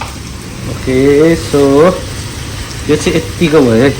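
Ingredients for Nepali-style mutton mince curry with potatoes fry in a pan, a steady sizzle running beneath a person talking in Nepali close by.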